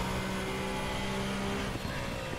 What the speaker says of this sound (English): on the way out the turns, that second gear, you can hear it takes a little bit of a while to actually get the turbo to spool up